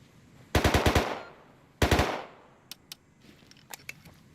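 Automatic gunfire in the Rust video game: two loud, close bursts of rapid shots, the first about five rounds and the second three, then several fainter scattered single shots trailing off.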